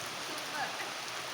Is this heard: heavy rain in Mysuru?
yes